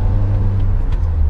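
A Nissan X-Trail with a 130-horsepower 1.6 dCi diesel and six-speed manual gearbox drives along, a steady low engine rumble with road hum heard from inside the cabin.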